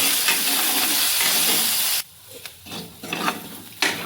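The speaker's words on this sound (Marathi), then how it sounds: "आपले बटाटे ह्याच्यामध्ये जरा व्यवस्थित तेलात भाजून घ्यायचं" Diced potatoes fry in hot oil in a pan for sabudana khichdi, a steady dense sizzle for two seconds that drops away, then returns in softer bursts with scraping stirs.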